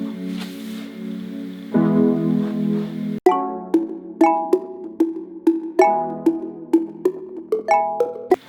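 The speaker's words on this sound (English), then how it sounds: "So underneath that, I added some pads." Warm synth pad chords from a Serum preset swell and sustain for a tropical reggaeton track. Midway through, a run of short, bright, rhythmic plucked notes joins above the lingering pad.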